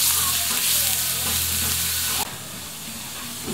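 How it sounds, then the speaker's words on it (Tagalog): Garlic fries and browns in a hot pan with a loud, steady sizzle that drops abruptly to a quieter, even hiss partway through. "Ngayon tayo bawang. Brown lang na ito ng konti."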